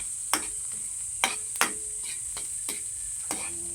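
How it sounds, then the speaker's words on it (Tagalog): Sardines sautéing in a pan, with a series of sharp spatula scrapes and knocks at irregular intervals over a steady high hiss of frying, close by and without talk. "Magigisa tayo ng sardinas."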